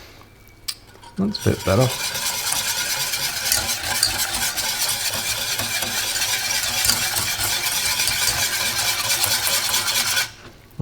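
A whisk beats canelé batter with milk powder in a bowl, a steady scraping, rasping swish running for about eight seconds after a few clinks at the start; a voice speaks briefly.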